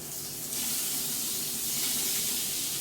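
Butter sizzling in a hot kadhai while making pav bhaji, a steady broadband hiss that swells after the first half second and holds loud and close, with no one talking.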